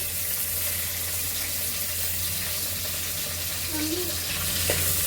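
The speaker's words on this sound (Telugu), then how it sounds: "ఇప్పుడు పచ్చిమిర్చి వేసుకుంటున్నాను" Green chillies sizzle in a hot pan while khichdi is being cooked, a steady broadband frying hiss running unbroken and fairly loud, with a faint scrape or stir near the end.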